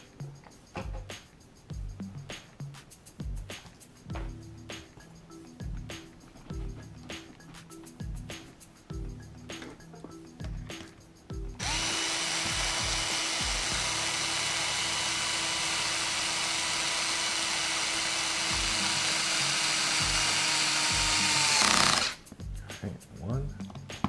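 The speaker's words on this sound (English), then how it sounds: "Now let me get my power tool." A handheld power tool drills holes during reassembly of a Traxxas XO-1 RC car, whirring loudly and steadily for about ten seconds after a stretch of tapping, clicking handling noises.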